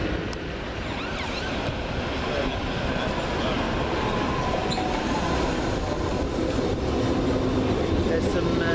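A London Underground Piccadilly line train bound for Heathrow Terminal 5 rumbles past with a dense, rushing rail roar, faint wheel squeals and a steady, loud noise bed from start to finish.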